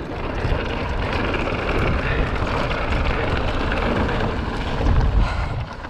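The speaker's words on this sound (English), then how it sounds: "That is some fucking headwind." Strong headwind buffets the microphone on a mountain bike ride, a steady, loud, rumbling roar with gusts that swell near the end, and no voices.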